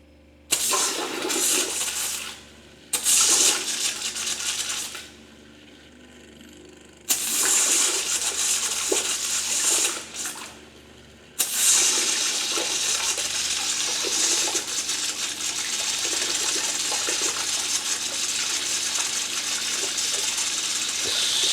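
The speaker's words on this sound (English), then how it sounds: "I got the water pump going through" A small camping water pump, switched through a panel, pushes water through a hose in loud gushing bursts that start and stop several times before settling into a continuous steady flow.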